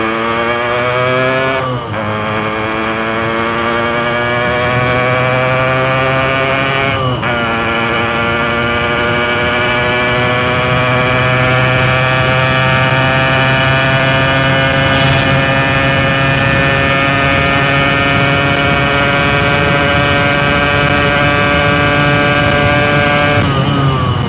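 Two-stroke motorcycle engine running LRF Elite Pro Perfumed 2T oil accelerating to top speed, loud and close, climbing through two brief gear-change dips before holding a sustained high-pitched drone, with no talking.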